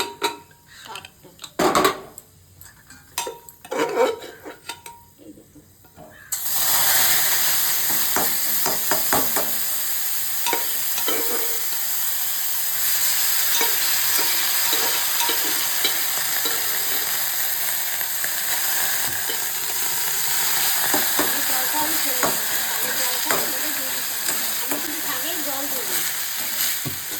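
Greens land in a hot pan of oil with fenugreek seeds and crackle into a loud, sustained sizzle, with a spatula scraping and stirring in irregular strokes throughout and a voice talking briefly near the start.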